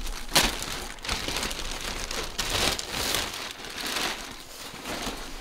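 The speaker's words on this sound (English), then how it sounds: "let's take it out of the package and see what we're dealing with here" A Frogg Toggs camo rain suit is pulled from its plastic package, giving continuous crinkling and rustling with a few sharper crackles, close up and with no talking.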